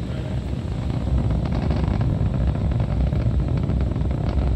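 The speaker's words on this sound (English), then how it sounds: "we began to throttle the 9 Merlin engines that you see" Falcon 9 rocket with nine Merlin engines during ascent after launch from pad 39A at Kennedy Space Center, heard as a dense, steady, loud broadband roar with no pauses.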